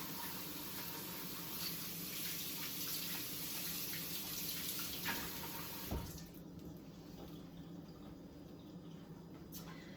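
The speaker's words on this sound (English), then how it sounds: "give my hands a wash because I've been touching raw egg" Hands being rinsed under a running kitchen tap after handling raw egg, a steady broadband rush of flowing water that continues for several seconds, then drops slightly and thins out as the flow changes, with no talking.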